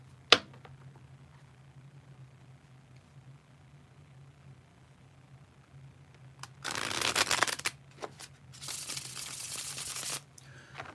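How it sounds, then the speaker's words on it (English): Playing cards riffled together in two quick bridge shuffles, each a dense crackling flutter lasting a second or two, close by with a faint steady hum beneath. "Do a bridge shuffle."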